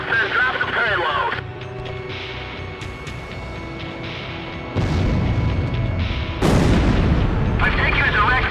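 Bombs exploding in the Ace Combat flight game, heavy booming blasts rolling one after another at close range, loud and dense, with voices talking over them.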